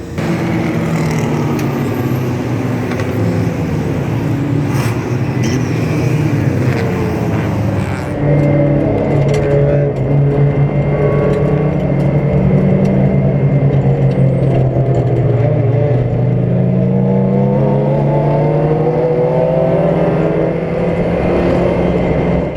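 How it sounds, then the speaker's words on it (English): Old Volvo racing cars tanking around a crowded 1.6-mile circuit during a 24-hour race, a loud continuous roar of several engines with shifting pitch as cars pass and rev, no talk. "There's a couple of old Volvos. They're absolutely tanking it around."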